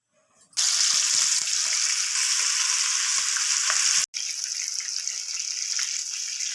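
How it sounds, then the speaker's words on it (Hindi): Chicken leg and breast pieces hit hot oil in a pan over medium heat, bursting into a loud, dense sizzle that holds steady, cuts out for an instant, then resumes just as strong. "अब लेग पीस और चेस्ट पीस को फ्राई करेंगे।"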